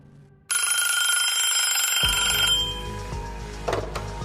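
A telephone bell rings loudly and continuously for about two seconds, then gives way to a lower, pulsing electronic tone.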